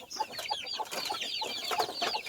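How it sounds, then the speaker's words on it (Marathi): Free-range country chickens cluck busily as they gather on plywood to eat cooked rice, a dense overlapping chorus of soft clucks and short calls nearby. "जसं आपण आलो तसेच आपल्या सर्व कोंबड्या आलेल्या आहे आणि आपण आता प्लायवूडवर त्यांना भात टाकत आहे"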